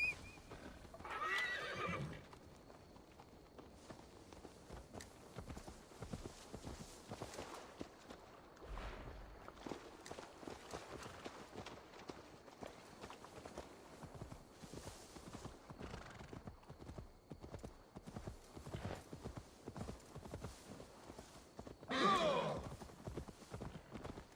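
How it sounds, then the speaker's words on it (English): Rhythmic hoof clip-clops of a horse plod steadily throughout, with a couple of brief horse whinnies near the start and end, amid ambient background sound of the video game Assassin's Creed Valhala on PS5. "Now to deliver Magni his horse"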